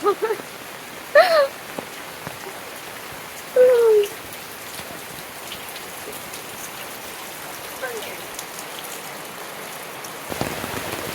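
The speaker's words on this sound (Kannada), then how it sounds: "ಮಳೆ ಬಂತು ಜೋರಾಗಿ ಬಂತು" Heavy rain pours outdoors in a village during a festival day, a constant wash of drops across the whole stretch, broken by a few short chirping calls and a louder burst near the end.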